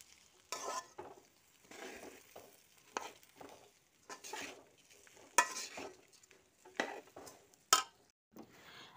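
Ingredients fry and get stirred in a pan for yakhni pulao, with bursts of scraping and sizzling at an uneven rhythm, close and fairly quiet, separated by brief pauses.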